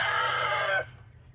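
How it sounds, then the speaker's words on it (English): Backyard farm chickens cluck and a rooster crows nearby in a short loud burst that cuts off abruptly, leaving a faint low hum. "So yeah, these are my chickens."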